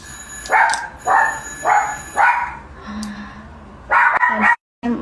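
A dog barks repeatedly in short bursts, fairly close, with a few yips near the end and little else around it.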